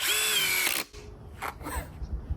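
Milwaukee M18 subcompact drill boring into scrap wood, a loud whining motor run close by that stops abruptly, followed by a few quieter clicks and handling knocks.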